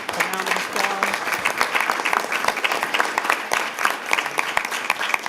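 Audience applauding town hall panelists at the close of a council member's evening town hall, steady dense clapping from a roomful of people throughout, with some crowd murmur mixed in.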